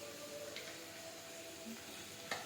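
Chicken fry with onions and capsicum being stirred in a pan: a quiet, continuous sizzle with a few soft scrapes and a light clink of the utensil near the end.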